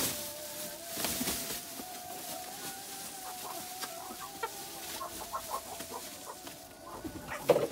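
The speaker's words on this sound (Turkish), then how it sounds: "Denizli horozu mudur?" Denizli rooster and chickens cluck and call steadily at close range, with a rooster's crow rising over the flock and no talking.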